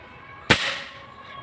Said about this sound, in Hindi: चलो शॉट नंबर 1 140 बार विदाउट रेगुलेटर